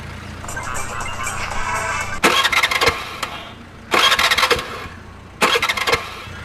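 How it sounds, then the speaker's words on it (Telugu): A vehicle engine being cranked repeatedly in an attempt to start it, with three loud cranking bursts over a steady low hum, close and with no talk. "స్టార్ట్ చేయడానికి ట్రై చేస్తుందన్న"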